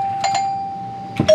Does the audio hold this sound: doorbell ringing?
yes